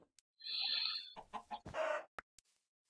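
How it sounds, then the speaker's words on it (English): A chicken in a Minecraft-style video game clucks and squawks in a few close, loud bursts, alone with no talk. "I let the chicken out. I'm sorry."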